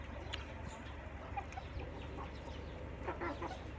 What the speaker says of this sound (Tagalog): Ang dami yung manok dito.